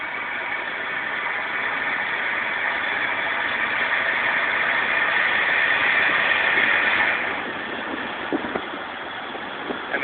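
A 1988 Chevy 1500 truck engine at full throttle, heard from inside the cab as a loud, sustained droning roar that builds steadily and then drops off sharply, as if easing off or shifting.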